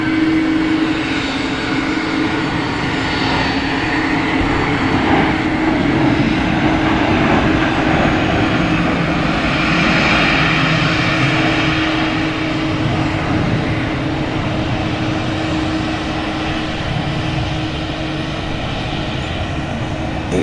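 Airbus A220 jet engines whine steadily in the foreground before takeoff at Gimpo International Airport in Seoul, a loud continuous drone with a sustained tonal hum throughout.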